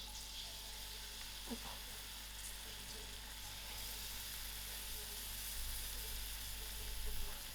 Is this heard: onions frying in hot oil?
yes